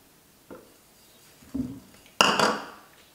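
Pieces of butter drop into a Thermomix TM6 mixing bowl, giving three soft thuds and clinks that grow louder, the last one the sharpest, against a quiet kitchen.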